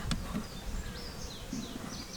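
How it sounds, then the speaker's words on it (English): Honey bees buzz steadily around an opened mating nuc as frames are worked and bees are shaken down, a close, continuous drone with a few sharper buzzing passes and light handling knocks. "we're going to give it a shake of bees down in here"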